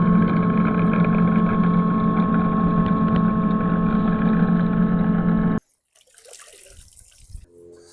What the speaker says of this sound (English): it does have a pretty powerful vacuum